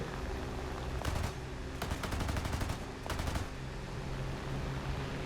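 Bursts of machine gun fire from a propeller-era fighter plane in the War Thunder combat flight game, three separate rapid volleys over a steady engine drone, loud and close with no talking.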